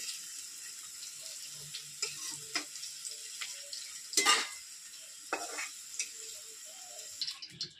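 Potatoes frying and being stirred in a pan outdoors for a bottle gourd and prawn curry, with soft sizzling and scattered scraping clacks of a spatula, one louder stir burst midway.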